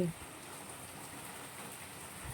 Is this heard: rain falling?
yes